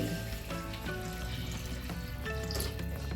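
About one and a half litres of water poured into a cooking pot of sautéed onion and green chillies for vangi bath, a constant close splashing fill with no voices.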